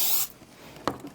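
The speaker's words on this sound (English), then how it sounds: "I'm gonna spray everything down, like to cover nice and evenly all the way through the bottom." A short hiss of cooking spray coats a cake pan, loud and steady for a moment before cutting off, followed by a faint tap in a quiet kitchen.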